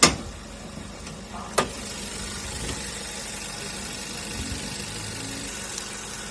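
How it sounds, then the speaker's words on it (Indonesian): A Nissan Serena C26 Highway Star's 2.0-litre MR20DE engine cranks and fires with a short burst, then settles into a steady, even idle, near and alone. "kita nyalakan mesin"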